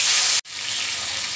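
Marinated tilapia fish fries in hot oil, giving a loud, bright hissing sizzle that cuts out for an instant and then resumes steadily.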